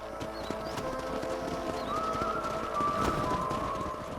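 Horses running in the Red Dead Redemption video game during a herding task, with steady clip-clop hoofbeats under a faint neigh and ambient background sounds.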